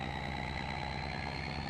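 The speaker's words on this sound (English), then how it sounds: "I will say, this truck sounds great." A truck engine idles in the farming game Farming Simulator 25, a steady low rumble with a faint constant whine layered on top, even and unchanging at a quiet level with no other sounds.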